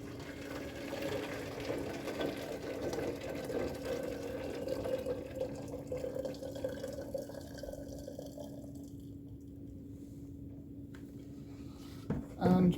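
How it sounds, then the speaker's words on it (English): Freshly boiled water poured into a container, a soft steady trickling that runs for several seconds and then fades out, faint and close. "I'm going to pour the freshly boiled water in."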